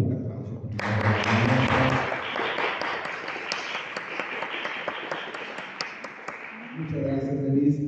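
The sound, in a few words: applause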